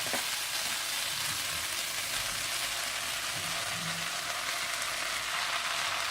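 Boiled rice tumbles into a hot pan for Schezwan rice, setting off a steady, loud broadband sizzle and frying hiss that runs the whole way through, with faint stirring scrapes underneath and no voices.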